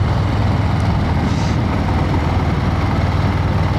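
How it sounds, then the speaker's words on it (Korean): Harley-Davidson Street Bob 114 motorcycle riding along, its exhaust giving a steady, loud, low rumble that runs unbroken throughout. "그리고 이게 지금 주행 중인 약간 배기음이 들릴지 모르겠는데"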